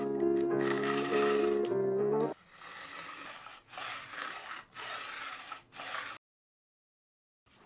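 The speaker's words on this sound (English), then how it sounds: "Followed by a bevel edge filing." Rough rasping file strokes on a guitar neck's bevel edge, several uneven bursts in a row, fairly close, after a brief tonal passage at the start, then silence.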